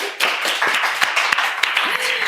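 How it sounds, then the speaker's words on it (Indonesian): Audience applause at an Indonesian film event, scattered hand claps rising into a steady burst of clapping with a few voices talking over it. "Boleh tepuk tangan dulu guys,"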